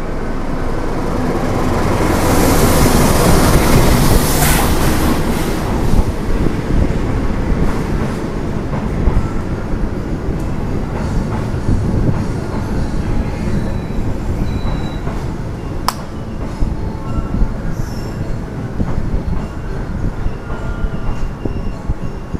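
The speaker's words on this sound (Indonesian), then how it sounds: "Kereta api Argo Cirebon di sebelah kanan, kereta api Argo Dwi Pangga." An Argo Cirebon passenger train with stainless steel new-generation cars runs past, a loud, close, sustained rumble of wheels on rails that gradually eases, with clickety-clack and a sharp squeal of wheels partway through.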